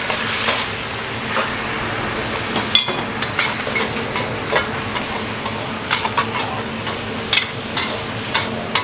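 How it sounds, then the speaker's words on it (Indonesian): Salted squid fries in hot oil in a pan, a loud, steady sizzle broken by scattered crackles and the scrape of stirring, with no voices. "Yang pertama bakal kita lakuin adalah ngegoreng si cumi asin ya"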